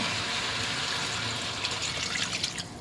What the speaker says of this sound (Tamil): இதுக்கு வந்து ஒரு கிளாஸ் தண்ணி விடுவோம்.